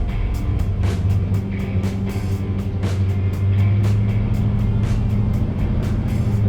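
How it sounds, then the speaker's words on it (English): A 1971 Ford Torino Cobra with a 429 Ford V8 of nearly 600 horsepower drives off, its engine rumbling low and loud with repeated sharp bursts, swelling louder partway through. "Let's put her in gear and take it for a little spin."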